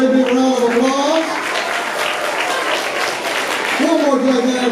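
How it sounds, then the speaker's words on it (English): Audience applause for third- and fourth-grade math competition winners at a school event: dense, steady clapping lasting several seconds, with a voice talking over it at the start and end. "give our winners another great big round of applause"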